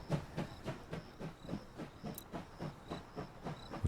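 Steam locomotive from the train-management game Last Train Home runs in a blizzard, its rhythmic chuffing and clickety-clack of wheels steady and evenly spaced, with a hissing wash over the top and no voices.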